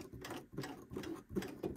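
Sewing machine stitching buttonholes in thin woven fabric, a close, quiet, fast rhythmic chatter of needle strokes at an even pace, with no talking.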